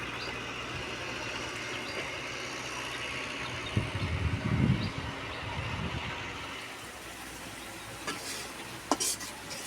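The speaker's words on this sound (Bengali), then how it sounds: "এই যে এখানে আপা ভেন্ডি ভাজি রান্না করতেছে।" Okra frying in a pan in a home kitchen with a woven fence of firewood sticks, heard as a soft continuous sizzle with stirring scrapes and a few sharp clinks of utensils.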